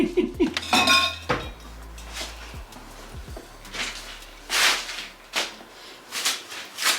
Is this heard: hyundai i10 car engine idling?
no